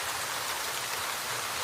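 Steady rain falls in Dubai, a dense continuous hiss of drops on surfaces, even and unbroken throughout with no voices.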